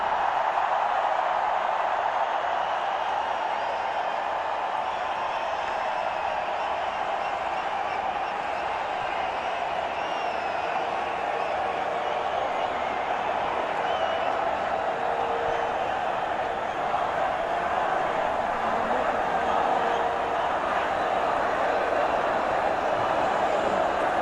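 Big crowd cheering steadily at an ICC Champions Trophy cricket ceremony, a dense continuous roar of voices and applause holding at a loud, even level throughout, with no distinct voice standing out.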